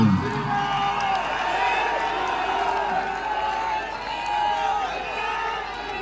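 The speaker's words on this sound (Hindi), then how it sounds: "जोरदार तालियां।" Crowd at an outdoor live stage show in Korba cheering, whooping and clapping, with a steady noisy roar of many voices throughout and general crowd chatter mixed in.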